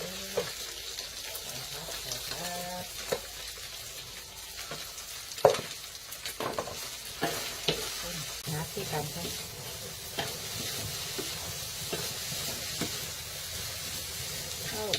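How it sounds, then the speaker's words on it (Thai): Eggs stir-frying in a pan, a continuous hissing sizzle with repeated scraping and clanking stirs of a spatula, fairly quiet and close. "ผัดไข่"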